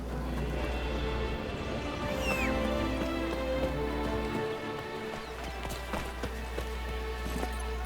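Horse hooves clip-clop at a steady walking rhythm under a low constant hum and ambient wind in The Witcher 3, moderately quiet and continuous throughout.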